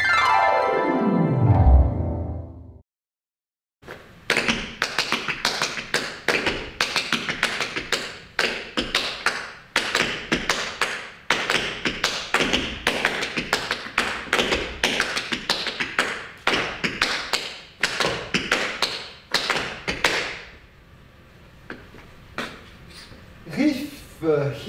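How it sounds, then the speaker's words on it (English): Tap dance short riffs, with crisp rapid taps of metal-plated shoes on a hard floor repeated in quick pairs over about twenty seconds, preceded by a brief falling sweep and a pause. "It's a riff, a normal riff, only two sound, one, two. Short riff."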